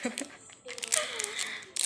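A shampoo sachet is torn open by hand with no scissors, giving a short crinkling, ripping rustle of thin plastic close to the microphone, with a few brief crackles.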